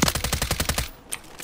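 Machine gun fire in the video game Warzone: a fast, loud, evenly spaced string of about a dozen close shots, then a sudden stop with a faint trailing sound.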